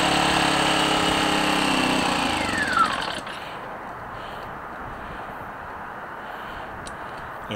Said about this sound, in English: this is only about an 800 watt generator